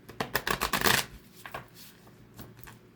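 A deck of cards is riffle-shuffled in a quick burst of flutters, followed by a few softer taps and slides as the cards are squared up.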